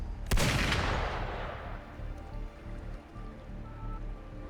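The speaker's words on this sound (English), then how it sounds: "Gunfire!" A sharp, loud burst of video game gunfire at the start, followed by a rumbling, echoing wash of noise that slowly fades.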